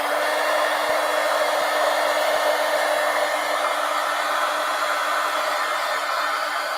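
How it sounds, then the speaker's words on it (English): A heat gun blows hot air over wet paint on a folio art journal, a steady, loud, even rush of air with a faint hum that runs unbroken from start to finish, with no talking. "Let me hit this with the heat gun."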